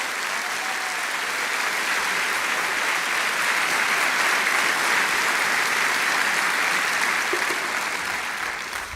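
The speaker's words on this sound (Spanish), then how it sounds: "Dele un aplauso a Dios" A church congregation applauding in steady, dense clapping that holds at an even level for several seconds, loud and close, with no talk over it.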